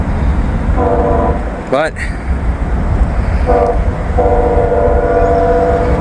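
A CSX or Norfolk Southern train rumbles past at night, its horn sounding in three loud blasts over the steady rolling noise, with a brief voice in between.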